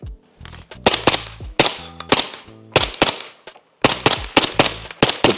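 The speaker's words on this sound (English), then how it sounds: "I'll put a clip of me actually shooting a suppressor" A suppressed firearm fires a run of roughly fifteen sharp, loud reports in irregular bursts with short gaps between them. No voices are heard.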